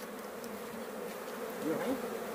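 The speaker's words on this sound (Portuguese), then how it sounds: "Tô terminando de entrar as abelhas" Bees from a small swarm crowd into a hive box, and their continuous buzzing drone holds close and steady. It briefly swells louder near the end.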